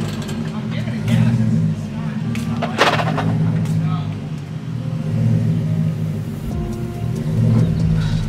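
A C5 Corvette Z06 engine revs and rumbles in uneven surges, rising and falling, with a voice talking over it.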